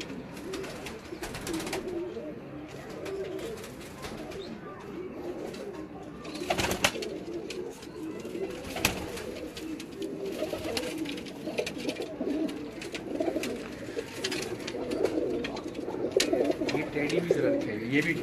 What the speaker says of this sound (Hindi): दोस्तों, ये खलीफा असद भाई के ब्रीडर कबूतर है जो आप ये देख रहे हैं